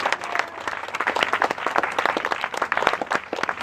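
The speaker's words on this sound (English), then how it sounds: "so everybody give a big round of applause." An audience at a political house party in Oceanside, California claps and applauds continuously, a dense, lively patter of many hands close by with no speech over it.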